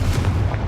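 A Confringo explosive spell blast goes off in Hogwarts Legacy, a dense, loud booming burst with a low rumble that fills the whole brief moment with no pause.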